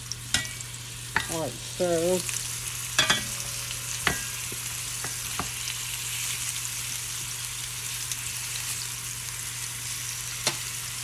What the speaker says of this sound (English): We're just going to move them around in there. Get that oil on them real good.